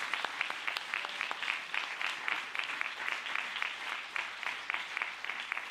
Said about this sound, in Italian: quindi va un applauso